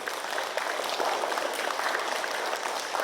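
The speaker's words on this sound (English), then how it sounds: "let's give a big round of applause for the Lions Club" Audience applause fills a community library program ahead of a live reptile show, steady dense clapping from a crowd for the full stretch, fairly near and alone without talk.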